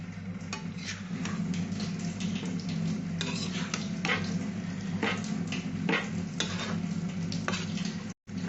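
Bottle gourd peel cooks with Gobindobhog rice and ghee in a pan while a spoon stirs it. Soft scraping strokes recur over a low sizzling hum, close by, with a brief dropout near the end.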